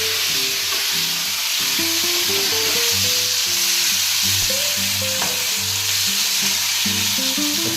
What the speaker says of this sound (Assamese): এতিয়া তোমাৰ চিকেনটো ফ্ৰাই কৰি লৈছোঁ